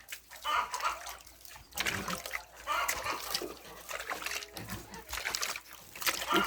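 An IMO water solution is sprayed across a pig pen on a Nigerian farm, giving hissing splashy bursts in uneven pulses with chickens clucking faintly nearby.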